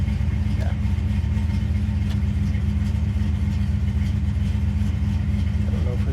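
A 1970 Chevy Camaro restomod's engine runs steadily with a deep, rumbling exhaust, loud and close, holding a constant idle throughout.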